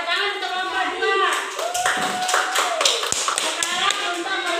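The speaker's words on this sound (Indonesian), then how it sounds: "Tepuk tangan untuk kelompok 2" Students in a classroom clap for group 2, giving a burst of quick hand claps mixed with children's chatter and a teacher's voice.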